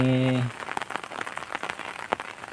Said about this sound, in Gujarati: ખૂબ જ વરસાદ ચાલુ છે